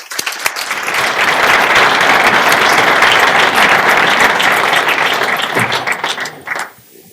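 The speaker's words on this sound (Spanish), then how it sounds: "por el cual pido un aplauso para Faro de Vigo" An audience at a book presentation in a museum bursts into sustained applause, dense clapping from many hands that holds loud and steady for several seconds before tapering off near the end.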